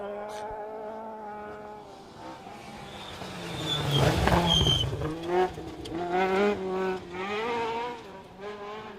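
A rally car engine on a special stage rises and falls in the distance, rasping and buzzing through gear changes, faint and without any talk.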